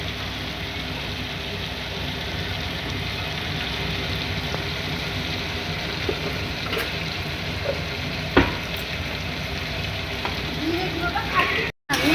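Spices with turmeric and chili powder stirred in a pan, a steady low frying hiss with faint scraping and one sharp clink near the end, close and fairly even.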